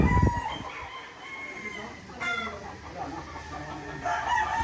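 A Kelso gray gamecock rooster crows once up close, a loud drawn-out call following a sharp opening burst, with faint clucking and farmyard noise around it.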